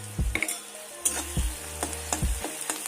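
Ingredients for a Bankura-style khosta (poppy seed) fry sizzle in a pan as a spoon stirs them, with soft scraping strokes repeating about three times under a steady crackle. Nobody speaks.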